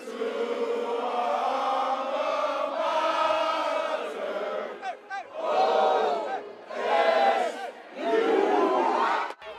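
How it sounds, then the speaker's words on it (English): A football stadium crowd roars and cheers after an Oklahoma State win over Nebraska, the sound rising and falling in broad surges of yelling from a distant mass of voices. "An enthusiastic crowd celebrated Oklahoma State's decisive victory"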